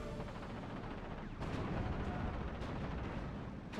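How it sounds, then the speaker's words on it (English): Dense battlefield noise from the World War II strategy game Steel Division 44, with a Sherman tank and gunfire: continuous rumbling explosions and shots layered into a loud, steady roar with a few sharper blasts. "Sherman tank may be firing upon it."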